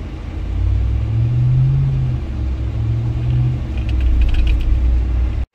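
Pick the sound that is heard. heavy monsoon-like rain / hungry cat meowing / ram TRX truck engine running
ram TRX truck engine running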